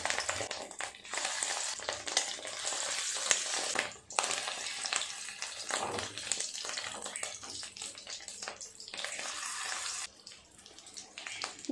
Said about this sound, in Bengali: এক এক করে ডিমের বড়াগুলো বানিয়ে নেব তেল গরম হয়ে গেছে ছোট ছোট করে করবো বড়াগুলো